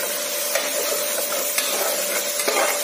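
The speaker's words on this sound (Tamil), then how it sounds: "கீழே அடி பிடிக்காம கொஞ்சம் கிளறிட்டே வாங்க" A spoon stirring tomato biryani in a pot while it fries in oil, a steady soft sizzle with occasional scraping clicks against the pot, no voices.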